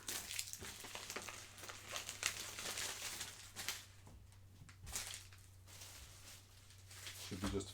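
A small padded envelope is handled for packing an eBay order, giving soft, close crinkles and rustles that come and go over a quiet room.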